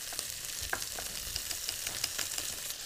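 A mushroom and onion burger topping sizzles in a pan while being stirred, a soft continuous hiss dotted with small regular clicks and scrapes, faint and close, no voices.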